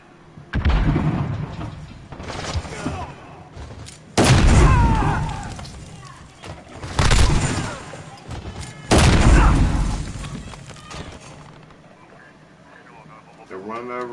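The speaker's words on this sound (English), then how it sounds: "Throwing stun!" A stun grenade goes off in a PS4 shooter, heavy booming blasts and bursts of gunfire landing in loud waves over several seconds amid battle noise, with a voice talking over the action.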